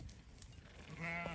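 Sheep and goats on a farm bleat after being fed salt, one wavering, drawn-out call rising clearly near the end over faint background noise.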